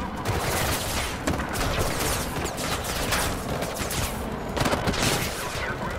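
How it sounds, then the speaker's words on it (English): Dense, continuous gunfire aimed at the player in Mirror's Edge Catalyst, a crackling barrage of overlapping shots and impacts that stays loud and close throughout, with no voices. "Stop shooting at me, Vex."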